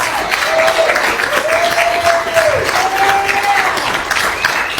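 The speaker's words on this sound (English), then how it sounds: "Let's give the nurses a round of applause." Crowd applause for nurses at a political rally: loud, sustained clapping from a large audience, with cheers and whoops rising above it throughout.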